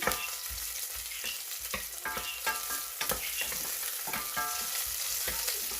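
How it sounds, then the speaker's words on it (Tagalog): Chicken stew aromatics sauté in a hot pan, a steady bright sizzle running throughout with repeated clacks and scrapes of a utensil stirring, close and fairly loud, with no talking. "So just saute it until it's crystal, or if you like light brown."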